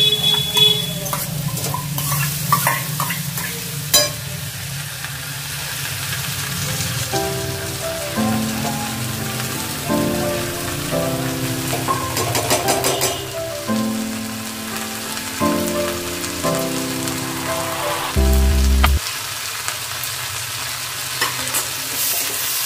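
Turmeric-coated daliya (broken wheat) fries over a low flame in a pan with other ingredients, sizzling steadily while a spoon stirs and scrapes it repeatedly, with music playing in the background.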